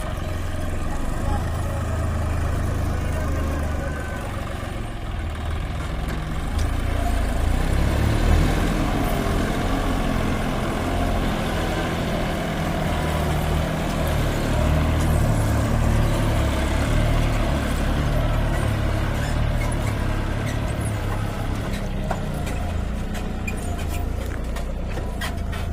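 A tractor rumbles steadily as it drives into a peanut field, its low engine drone continuous and close throughout, with a person talking over it.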